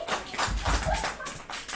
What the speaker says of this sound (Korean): 우리 주아에게 열렬한 박수를.